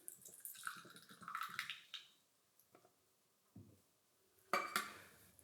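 Liquid poured from one container into another while mixing an Icon 12 egg solution, with splashy bursts, drips and clinks of containers, mostly quiet between sounds and ending in a louder splash.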